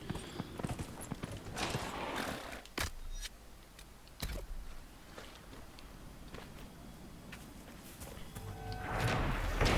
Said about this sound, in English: I'm not driving a van, I'm riding a horse.